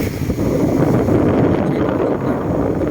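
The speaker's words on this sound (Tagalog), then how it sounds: "Ngayon medyo maalon dahil mahangin eh" Strong wind roars and buffets the microphone steadily at a beach, a dense close-up rumble with no voices.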